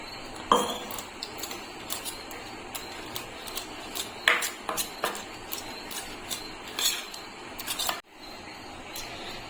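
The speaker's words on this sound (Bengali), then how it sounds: "এক চামচ ময়দা নিয়ে নিলাম এখন অল্প অল্প জল দিয়ে একটা গোলের মতন তৈরি করে নেবো" A spoonful of flour being mixed with a little water into a paste in a bowl, heard as a close series of light, irregular spoon clinks and scrapes against the bowl, quiet between strokes.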